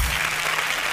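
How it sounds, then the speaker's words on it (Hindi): Audience applause follows the end of a Hindi poem recital, a brief, dense burst of steady clapping from a crowd with no talking over it. "कविता समाप्त हो गई है, तालियां बजाइए।"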